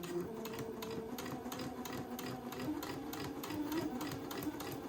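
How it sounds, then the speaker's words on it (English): A sewing machine stitches a straight line along entredeux lace trim, a steady, fast mechanical chatter with even needle ticks, quiet and close, with no talking over it. "I'm going to sew a straight line next to my entredeux ladder all along the edge."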